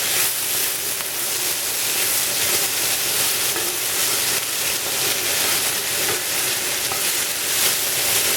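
Vegetables for Spanish rice sizzle in a frying pan, a steady dense hiss of frying that holds evenly and close throughout, with no talking.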